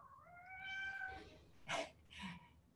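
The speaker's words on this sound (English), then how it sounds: "hello to your cat" A cat gives a long, drawn-out meow followed by two shorter calls, fairly faint and close, with no talk over it.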